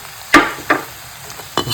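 Chicken with turmeric and garam masala is stirred in a pan, with three distinct scraping strokes of the spoon against the pan over a faint sizzle, close and unaccompanied by speech.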